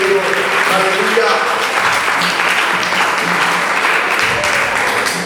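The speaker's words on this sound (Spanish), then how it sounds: "El fuerte aplauso al Señor." A church congregation gives the Lord strong applause, loud sustained clapping with voices mixed through it.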